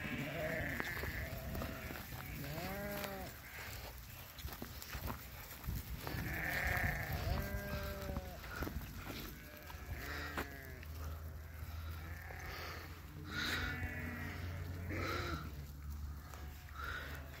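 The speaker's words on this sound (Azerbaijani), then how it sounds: "Bunlar hələ quzudur." Qaradolaq Beylaqan sheep and young lambs bleating in a flock, repeated overlapping bleats close by, some loud and some fainter, with a low background hum.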